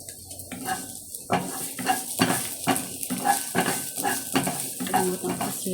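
Garlic sautéing in a pan for creamy ginataang kalabasa with beans and shrimp, with a steady sizzle broken by repeated scraping stir strokes and clinks of a utensil against the pan, close and fairly loud.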